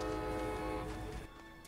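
A sustained, loud video game train horn blast in New World with rich layered tones, continuous for over a second before tapering slightly, with no talking.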